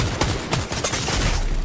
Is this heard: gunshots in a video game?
yes